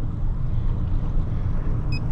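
Honda 150 outboard motor on a Stabicraft 2050 Supercab boat idling down to trolling speed, a steady low rumble with wind and water noise, close and continuous with no talk.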